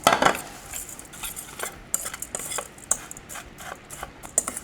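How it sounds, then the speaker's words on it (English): A maple syrup mixture is stirred in a bowl, with quick, close, repeated clinks and scrapes of a utensil against the bowl in an uneven rhythm. "And a little bit of pure maple again. And just stir this up."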